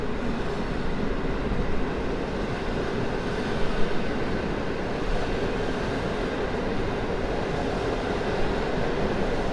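A long Hańcza passenger train rolls past at Warszawa Służewiec, a steady, continuous rumble of wheels on rail heard from above on station steps, loud and even throughout with no voices.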